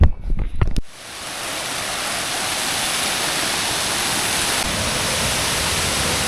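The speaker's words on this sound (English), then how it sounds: "The waterfall is crisp, beautiful, and part of a series of trails" The Los Chorros waterfall in Juayua, El Salvador, roars as a loud, steady, broadband rush of falling water after a brief noisy scramble of handling sounds at the start.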